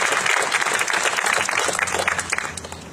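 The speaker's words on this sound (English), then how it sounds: "a round of applause please for his heroics" Audience applause at a political campaign kickoff event, a dense steady wash of many hands clapping together, fairly loud and sustained throughout before tapering slightly at the end.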